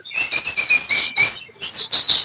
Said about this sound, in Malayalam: ബാക്കി എല്ലാ കിളികളും ഉണ്ട്.